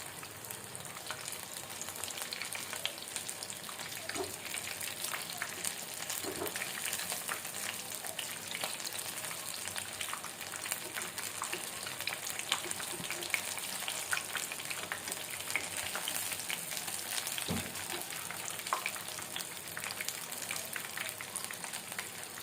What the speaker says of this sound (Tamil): இப்போ நம்ம மீன் மேக்கரு எல்லாம் நல்லா பொரிஞ்சு வந்துருச்சு பாருங்கள்